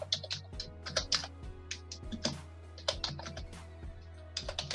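Steady typing on a computer keyboard, a close run of quick clattering keystrokes in bursts with short pauses, over a low constant hum and no talk.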